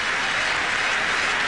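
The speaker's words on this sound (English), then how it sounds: "Let's just dwell on the applause that this young man is going to get." A packed crowd at a Sharjah cricket ground in 1998 applauds Sachin Tendulkar, a loud, sustained roar of clapping that fills the whole moment without a break.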